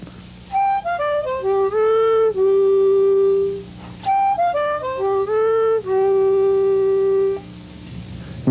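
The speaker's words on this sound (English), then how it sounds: "Now I want to show you one of the most important of all the blues harmonica riffs." A blues harmonica plays the 6-blow down riff twice, each run stepping down through quick notes and settling on a long held low note, clear and solo with no talk.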